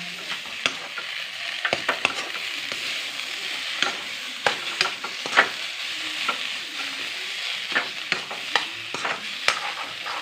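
Boiled cauliflower and potato are stirred in a hot pan, a spoon scraping and clicking against the metal in quick irregular strokes over a continuous soft sizzle, close and clear with no talking.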